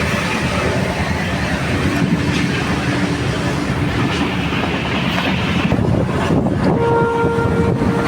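A Konkan Railway passenger train between Kumta and Karwar rumbles steadily along the tracks, a loud continuous roar with rhythmic clatter heard from inside the carriage.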